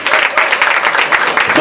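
Guests at an official wedding ceremony break into brief, lively applause. The clapping is close and loud, lasts under two seconds, and comes with crowd noise mixed in.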